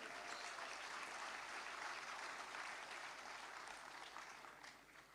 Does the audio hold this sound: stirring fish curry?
no